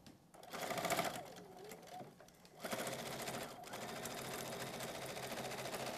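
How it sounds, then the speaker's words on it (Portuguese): Sewing machine stitching fabric at close range, a whirring mechanical hum that starts, pauses briefly, then runs steadily, with a voice faintly present early on. "aqui eu vou costurar"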